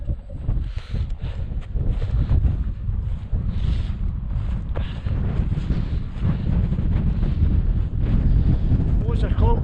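Strong wind buffets the microphone on the summit of Buachaille Etive Mòr in the Scottish highlands, a steady low roar with gusty swells throughout and a voice speaking faintly beneath it.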